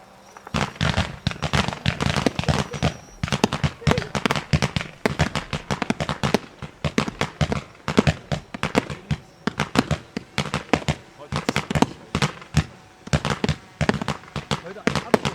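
Closing fireworks display at the 2020 Röder Vorschießen shooting festival: a dense, continuous barrage of loud cracks, bangs and crackling bursts in rapid irregular succession, with faint voices underneath.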